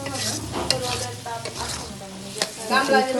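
Tomato achar fries in oil while being stirred. Close scraping and stirring strokes come in uneven bursts over a continuous sizzle, with no talking.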